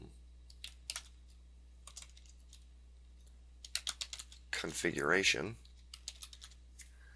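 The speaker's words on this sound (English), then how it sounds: "type in a name" A name is typed on a computer keyboard in WordPress as light, scattered clicks in short bursts. A brief voice cuts in partway through.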